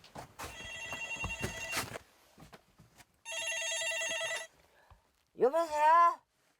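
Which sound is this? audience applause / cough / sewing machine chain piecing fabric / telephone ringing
telephone ringing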